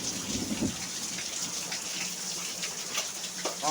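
Heavy rain pours down during a thunderstorm as a dense, continuous hiss of drops on surfaces, steady and fairly loud, with no voices.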